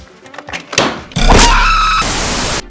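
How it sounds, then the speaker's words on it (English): Hood of a 2013 BMW X3 being opened: a few soft clicks from the latch, then a hollow thunk, followed by a sustained broadband rush as the hood lifts, all close by. "To get at the bulb, we first need to open the hood."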